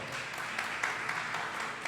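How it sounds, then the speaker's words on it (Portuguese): Church congregation applauding during a worship service, a fairly faint, even wash of many hands clapping at a distance, with no voices on top. "Vamos aplaudir Jesus bem forte"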